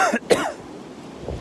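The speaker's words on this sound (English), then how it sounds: "I apologize for the coughing." A single short cough with a throat-clearing rasp, close to the microphone, followed by quiet room tone.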